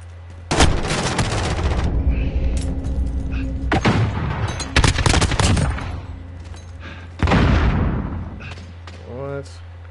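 Gunfire in the video game Call of Duty: Modern Warfare, several loud bursts of rapid shots separated by brief lulls, with a player's voice faintly under the action.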